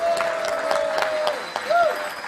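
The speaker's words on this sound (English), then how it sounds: "Give him a round of applause." Audience applause at a talk in London: steady clapping fills the room throughout, with a thin sustained tone ringing over it and a brief bending pitch near the end.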